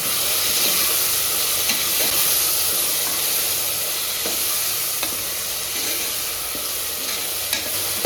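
Chopped tomatoes with salt fry in a pan, giving a loud, continuous hissing sizzle. Light scrapes and clicks from a spoon turning the mixture come through now and then. It is close-up, with no voices.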